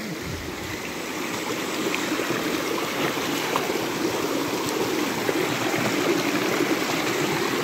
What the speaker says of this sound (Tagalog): Dito tayo ngayon sa ilog.